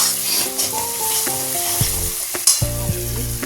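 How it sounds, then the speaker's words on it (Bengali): Spice mix (masala) frying in a pan, an intense close sizzle with stirring scrapes, steady and loud, under soft background music. "ফ্রাই করবো মশলাটা, সেই জন্য রেডি করছি"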